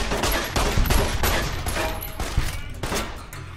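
Rapid gunfire in Fallout New Vegas crackles in a dense fusillade, sharp shots overlapping in quick succession and staying loud and close throughout.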